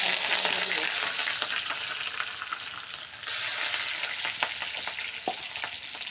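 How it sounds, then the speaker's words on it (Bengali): Cumin seeds and green chilies frying in hot oil in a pan, a steady crackling sizzle with sharp pops and spatters, close and continuous without speech. "একটু তেলটা জিরাটা একটু পোড়া পোড়া হওয়ার পরে এখানে কাঁচামরিচ,"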